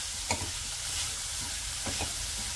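Jaggery and coconut filling for ukadiche modak being sautéed on a low flame, a soft steady sizzle with a few scraping stirs of the spoon, close by and fairly quiet, with no voices.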